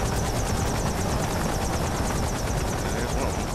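Military helicopters in the action game Metal Gear Rising: Revengeance roar with a steady, loud rotor chop that fills the scene continuously without letup.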